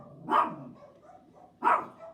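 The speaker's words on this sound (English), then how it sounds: "Oh, dogs." Dogs in a home barking: two sharp loud barks spaced more than a second apart, close by, with quiet room sound between and no talking.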